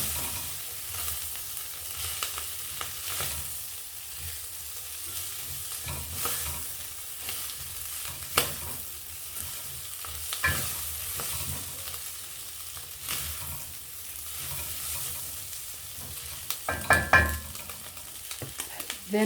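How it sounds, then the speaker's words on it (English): Kenyan matumbo (tripe) fries with paprika in a pan, giving a low, steady sizzle broken by occasional scraping stir strokes and a few louder knocks, with no talking. "I've just added paprika. We stir like 3 minutes again guys."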